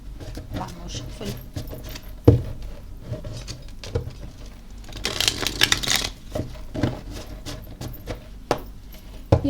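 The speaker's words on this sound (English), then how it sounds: "One more shuffle." Soft, rapid papery riffling of tarot cards being shuffled, with brief louder flurries and a few sharp taps, continuing steadily throughout.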